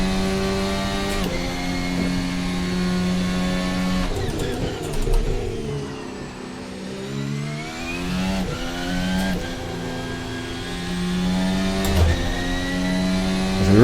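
A race car in VRC Formula Alpha runs under turbo boost, a steady high engine whine with rising and falling pitch through gear shifts and a dip mid-way, loud and continuous.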